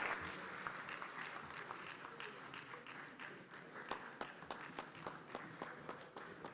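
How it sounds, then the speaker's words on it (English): A round of applause from delegates in a conference hall at an inter-parliamentary conference in Ghana, steady scattered clapping with some sharper individual claps standing out, moderately distant and without talk. "Please, a round of applause for my younger brother"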